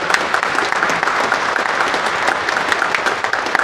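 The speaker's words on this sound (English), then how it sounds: "Let's give him a big warm of applause" A church congregation at a coronation anniversary Mass claps for a bishop, a dense, steady round of applause filling the space at full volume throughout, with no voices standing out.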